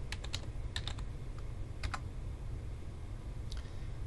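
Keys tap on a computer keyboard in short bursts and scattered single clicks, quiet and close, over a low background hum.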